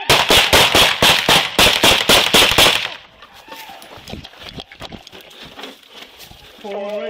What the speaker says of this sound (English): shots fired again